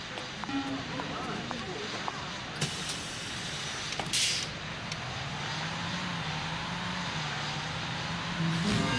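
A bus in a bus-driving video game on a cold, slippery city route rumbles with a steady low engine drone, joined by a brief hiss and a few clicks, with no talk over it.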